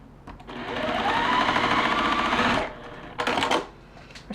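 Sewing machine stitches 2-inch fabric pieces together in one fast continuous run of about two seconds, followed by a shorter burst after a brief pause, close and clear.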